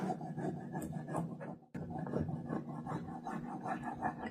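Crayon or pencil rubbing back and forth over paper laid on top of leaves, a steady close scratchy rasp with a short pause partway through.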